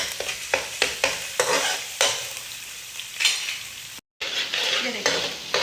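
Garlic frying in a preheated pan for red sauce pasta, a steady sizzle broken by repeated scraping stirs of a utensil against the pan, close and moderately loud with no talking.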